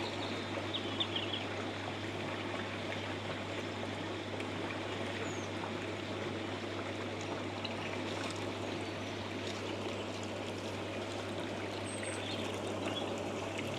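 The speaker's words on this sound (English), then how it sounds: "The filter's filling up now too." Water pouring steadily into an Evolution Aqua pond filter, a constant rushing trickle close by with no breaks, alone and unchanging throughout.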